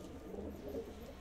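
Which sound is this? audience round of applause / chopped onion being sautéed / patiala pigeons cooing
patiala pigeons cooing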